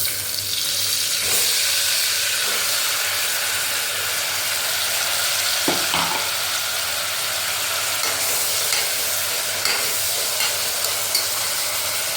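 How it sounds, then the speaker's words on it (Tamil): Continuous hissing sizzle of tomatoes sautéing in oil in a pan, with an occasional clink of a utensil stirring, no voices. "தக்காளி நல்லா வதங்கட்டும்"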